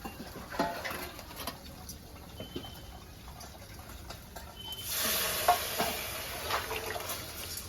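Onions fry in a pan of hot oil for a dal tempering, giving a soft crackling sizzle that swells into a louder, steady hiss partway through, with faint clinks and background chirps.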